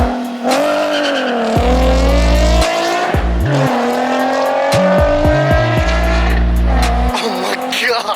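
A Nissan 370Z fitted with an ISR exhaust revs loudly up close, its engine pitch climbing and dropping through a series of sharp blips and longer pulls with a raspy, booming tone.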